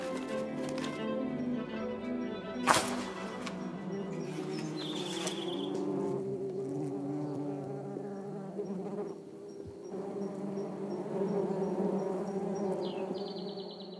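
Dense, steady insect buzzing fills the air, a continuous drone of many hornets around their nest up close, with a sharp crack partway through.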